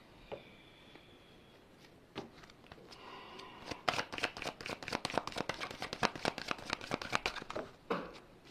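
Tarot cards being shuffled close by: a few faint taps, then a dense run of quick crisp riffling and flicking card sounds, fairly quiet and with no talk.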